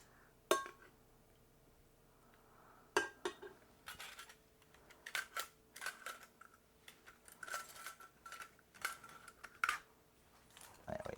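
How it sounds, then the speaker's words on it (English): Potato ricer pressing boiled potatoes, a series of irregular metallic clicks, clanks and squeezes, close and fairly quiet, with faint background hiss between. "I'm gonna use my potato ricer just to mash them in"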